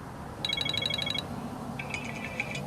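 Two short electronic ringtone bursts from an iPhone 7, a rapid trilling pulse pattern and then a different beeping tone, loud and close over a quiet room hum.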